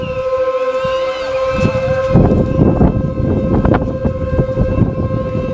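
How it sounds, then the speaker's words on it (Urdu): A siren sounding from a mosque to announce the Ramadan moon sighting in India, heard as a steady sustained wail of tones layered over rough background noise, moderately loud throughout. "چاند دکھا تو نہیں لیکن سائرن یہاں پر بھی بج رہا ہے، دیکھیے سن لیجیے آپ."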